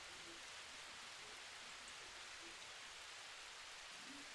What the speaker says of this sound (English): let me check my volume because this rain sound loud